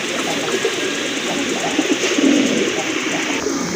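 Large Gopalganj pigeons coo softly among other birds at a market, low repeated calls set against a dense, steady background hum.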